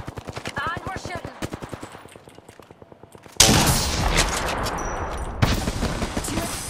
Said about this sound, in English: And we're shooting.